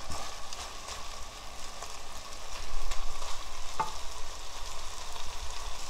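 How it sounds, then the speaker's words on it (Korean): Red seasoning sauce being stir-fried in a pan for a Korean mussel and garlic-scape dish. A loud, continuous sizzle runs throughout, with scraping and stirring sounds close by. "양념장을 볶다가 이렇게 잘 볶아줘."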